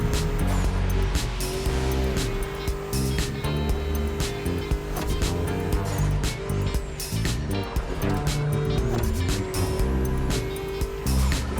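A BMW M4 races through corners in The Crew Motorfest, its engine snarling and revving continuously with gear shifts and tire noise, loud and constant throughout.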